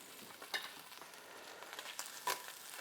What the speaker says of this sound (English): I'm going to put that right into my hot pan